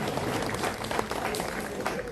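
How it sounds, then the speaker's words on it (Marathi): An audience claps in a continuous, dense wash of applause at a senior citizens' recreation centre event in Belagavi, heard fairly close and steady throughout. "मग टाळ्या कोण वाजवणार."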